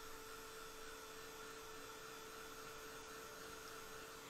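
A hair dryer runs steadily to dry a watercolor and gouache painting of flowers, a continuous faint whirring hum with no pauses and no talk.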